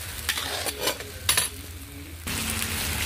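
Spice paste with cashew and poppy seed paste being stir-fried in a pan: close scraping stirs, clinking utensil knocks and a bright sizzle. The sizzle swells into a steady, louder fry for the final second.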